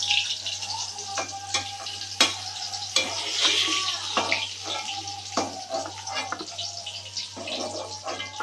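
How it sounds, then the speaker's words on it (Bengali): Pointed gourd (potol) fries in hot oil in a home kitchen, giving a steady sizzle broken by sharp clinks and scrapes of a utensil lifting the pieces out of the pan. It is close and continuous. "এবার তেলে থেকে পটলগুলো তুলে ফেলবো"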